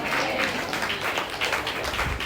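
An audience clapping together during a Tamil church sermon, a dense, steady wash of applause filling the short moment at close range.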